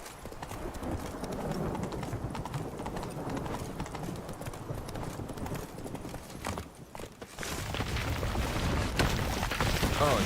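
Horse hooves clip-clop steadily on the ground in The Witcher 3, a continuous rhythmic gait with a short dip in the middle before the hoofbeats pick up again louder.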